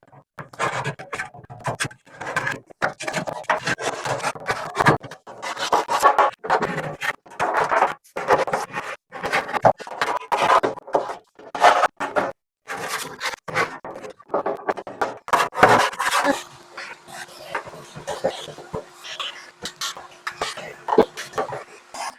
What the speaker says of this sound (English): I have a little kind of wire brush that had some stuff